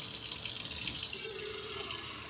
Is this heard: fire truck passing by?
no